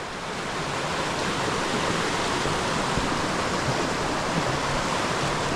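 Mountain streams and small waterfalls in the Carpathians, a continuous broadband rush of falling, splashing water, steady and fairly close, with no voices.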